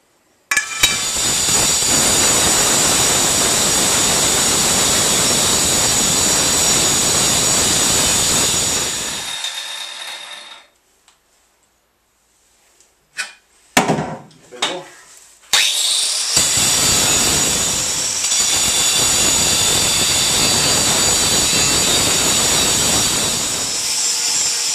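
An angle grinder working steel on a homemade trailer project, loud, close and harsh, running in long continuous passes with a gap of clanks and brief bursts between them.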